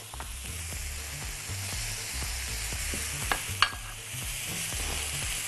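Potatoes fry in a pan for vegetable shawarma, a continuous close sizzle with repeated stirring scrapes and a couple of sharp knocks against the pan, no one talking.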